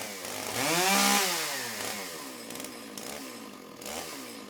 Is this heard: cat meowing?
no